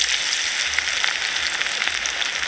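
Mustard seeds and garlic sizzle in hot oil in a village kitchen. The frying makes a steady, dense hiss with small pops crackling through it, close and without a break.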